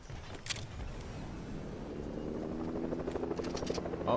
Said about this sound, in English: Oh, somebody's got a helicopter.